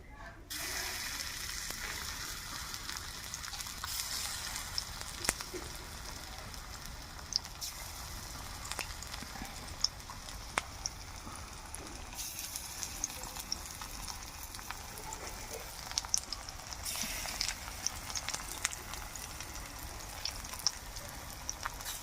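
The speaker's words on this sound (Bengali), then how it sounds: "বাদ বাকিগুলো আমি ভেজে নেব" Green pea fritters sizzle and crackle steadily in hot oil, with sharp pops and occasional stirring clatter, loud and close.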